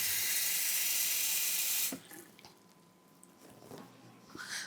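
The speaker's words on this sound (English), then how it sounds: "I'm gonna grab that out of the faucet." Warm water runs steadily from a kitchen faucet into a sink as bread dough ingredients are prepared, a loud rushing splash that cuts off abruptly, followed by quieter clinks and handling noises.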